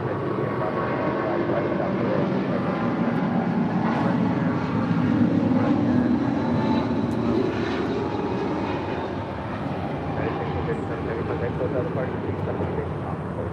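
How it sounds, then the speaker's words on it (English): A heavy jet airliner takes off at LAX with a steady, broad engine roar that holds loud and unbroken throughout, heard from some distance. "take a listen to the sound of this takeoff"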